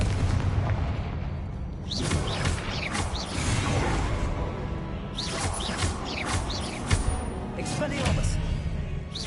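Hogwarts Legacy's Confringo fire spell set off in repeated booming blasts, each a sharp crack with a whooshing tail, several bursts spread over a few seconds amid game clatter and background effects.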